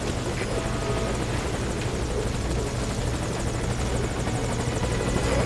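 An enemy military helicopter in the video game Metal Gear Solid 5: Ground Zeroes roars close by, its rotor thudding steadily and loudly with no break, heavy buzzing throughout.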